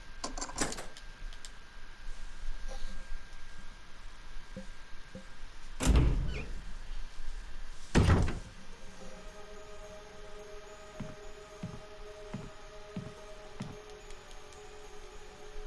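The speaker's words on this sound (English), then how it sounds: "We can go through this door now." A door in a Resident Evil Remake mansion opens with loud thuds and creaks, followed by a heavy slam, then fainter mechanical clicks and ticks in a quiet room.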